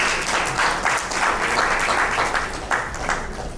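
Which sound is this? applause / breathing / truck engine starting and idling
applause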